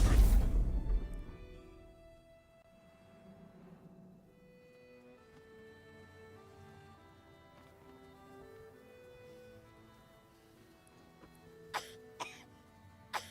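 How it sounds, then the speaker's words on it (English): Coughing and throat clearing from a character in the video game Baldur's Gate 3, a loud burst at the start, then a few short, sharp coughs near the end over quiet game music. "It's never a good sign if they start coughing and stuff."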